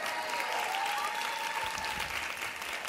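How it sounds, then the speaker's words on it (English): Loud, dense audience applause rolls on continuously, close and steady throughout, with a faint tonal whistle or cheer riding above the clapping. "You're getting a round of applause."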